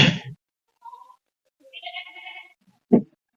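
A pet goat being fed fresh green grass gives a couple of short, thin bleats in a quiet setting, separated by brief silences, with a faint voice near the start.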